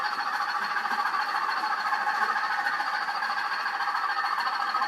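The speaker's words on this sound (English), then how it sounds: "The wagon clanging is part of the loco's noises as well." A model train locomotive runs along its track pulling wagons that clang and rattle, giving a steady, moderately loud mechanical hum and clatter with no talking.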